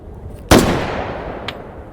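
Two distant gunshots ring out in the VR shooting game H3VR at long range: a sharp loud crack followed by a rolling tail, then a second fainter, shorter report about a second later.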